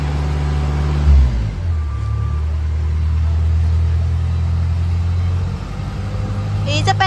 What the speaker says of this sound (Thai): เครื่องยนต์ดีเซลนะคะเป็นเครื่องสี่สูบนะ